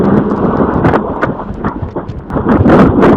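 Strong wind buffets the microphone during a drive around Ganghwa Island as rain threatens, giving a loud, continuous rumbling roar with uneven gusts and a few sharper bursts.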